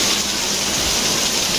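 Heavy rain pours steadily and loudly, a dense unbroken hiss of downpour close by with no pauses and no voices.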